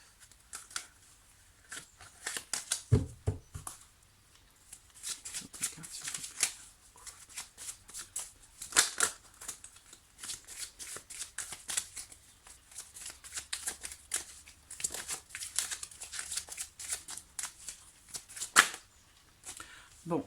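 Tarot cards are shuffled, handled and laid out on a table in a quiet room: repeated soft riffling and flicking, with brief crisp snaps, and faint speech here and there.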